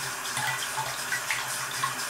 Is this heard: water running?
yes